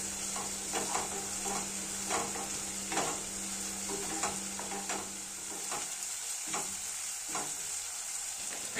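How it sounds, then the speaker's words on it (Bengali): Ginger paste stirred and sautéed with onion paste in a pan while cooking Bengali doi katla, a steady soft sizzle broken by repeated scraping strokes of a spoon at an unhurried rhythm, close by and without talking. "আদা বাটাটা সমস্ত কিছুর সাথে খুব সুন্দর রূপে মিলিয়ে মিশিয়ে নেব।"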